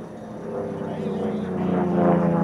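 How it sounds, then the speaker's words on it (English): A propeller-driven sport-class race plane flies at a national championship air race, a steady droning engine hum that swells slightly as it nears. Faint talk sits underneath. "So our leader coming around the corner here. Beautiful looking airplane."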